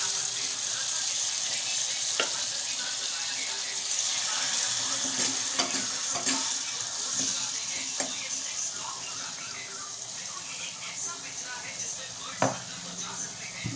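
Boiled dal is added to a spiced masala in a hot pan, producing a continuous hissing sizzle with occasional sharp clinks and taps, and a voice is faintly present underneath.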